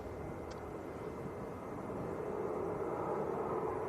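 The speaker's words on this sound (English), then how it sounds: "I'm going to get a very, very nice close-up indeed of this BBJ now as it taxis and backtracks runway 32." A steady, distant jet engine rumble as a Boeing Business Jet taxis at Leeds Bradford Airport, a low even roar that swells slightly toward the end, with no talk.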